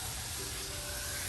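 A garden hose spraying water low onto the roots of tomato plants, a steady close hiss of water with no talking, brief.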